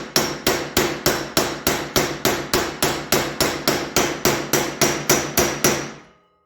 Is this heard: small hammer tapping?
yes